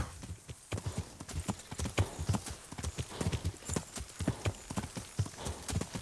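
Horse hooves clip-clop in a steady trotting rhythm through the Kingdom Come Deliverance game world, close and clear, with a brief whinny-like snort amid the repeated hoofbeats.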